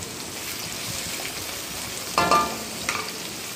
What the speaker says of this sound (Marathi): तर कांदा परतून झाल्यानंतर त्यामध्ये आपल्याला लसणाच्या पाकळ्या टाकायच्या आहेत।